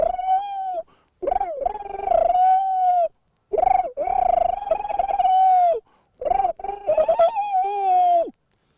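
A person imitates pigeons cooing with sustained, wavering voiced hoots in several long phrases separated by short pauses, close and fairly loud.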